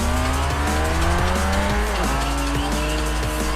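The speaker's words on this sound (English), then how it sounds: "we are closing up to the road and we are about to take off" A Pagani Zonda Revolucion in the racing video game Forza Horizon takes off with a loud, sustained high engine whine that shifts pitch through gear changes, with tire squeal and no talking.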